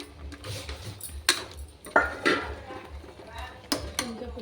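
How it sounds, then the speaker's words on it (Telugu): A spoon stirs chili powder and masala into country chicken in a pot, producing soft scraping and a few clear metallic knocks at close range, under a woman's speech. "ఇలా వేసేసుకొని బాగా కారం వేసుకున్నాక ఇలా కలిపేసుకోవాలి"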